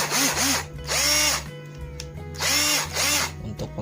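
An NRT Pro DC 330 cordless drill with an RS 550 motor whirs loudly up to speed in two bursts, each spinning down briefly between, heard close and alone.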